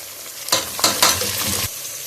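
Tomato and chili pepper hit hot oil in a pan with a short burst of loud sizzling and stirring that lasts about a second before cutting off, with no voices.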